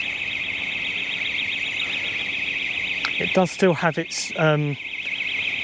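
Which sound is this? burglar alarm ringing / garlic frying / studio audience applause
burglar alarm ringing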